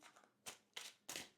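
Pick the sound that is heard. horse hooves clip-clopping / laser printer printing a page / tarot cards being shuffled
tarot cards being shuffled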